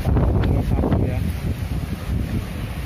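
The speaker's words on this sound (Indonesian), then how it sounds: "Ini udah musimnya dingin, ada badai angin ya, kita lihat nih." Strong winter windstorm in Taiwan on the eve of New Year, with heavy gusts buffeting the microphone in a loud, rough roar that eases slightly after the first second, no speech.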